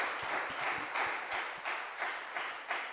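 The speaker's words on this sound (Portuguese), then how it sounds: "Aplauda o Senhor Jesus." Faint, rhythmic clapping from a church congregation during a service in a reverberant room, steady and even, heard from some distance.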